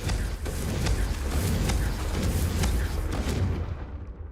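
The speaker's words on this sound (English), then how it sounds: "The first time Ominous and I practiced Confringo, we singed our eyebrows" A fire-spell blast in Hogwarts Legacy: a dense, rumbling explosive roar with crackling bursts that swells and then cuts off abruptly near the end.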